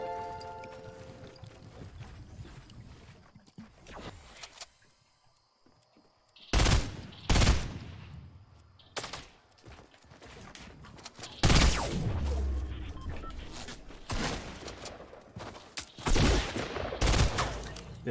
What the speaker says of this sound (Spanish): ¿De dónde me están disparando? Creo que desde ahí, ¿no? Desde el árbol, si no me equivoco. ¿Quién me está disparando?